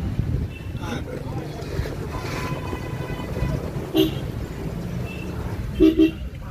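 A Darjeeling Himalayan Railway toy train at Kurseong station gives two brief horn toots, one midway and a double toot near the end, over outdoor background noise and people talking.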